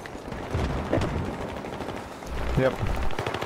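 Gunfire rattles in the distance in a Battlefield 3 multiplayer match, with muffled bursts and rumble under steady battle noise while a player speaks briefly.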